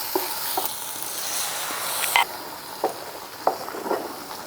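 Fried masala sizzles loudly in a kadai, and the sizzle surges as water is poured in, with a few clanks of a spoon against the pan.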